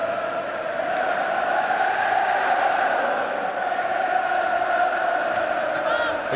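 Large football stadium crowd at an England versus USSR friendly match, a steady distant roar of chanting and cheering that swells slightly without pause, with no nearby voices.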